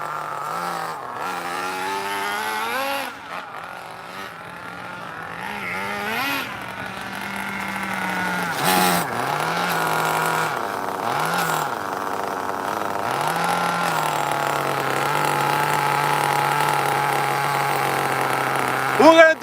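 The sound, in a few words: Tamiya Terra Crusher RC nitro engine running and idling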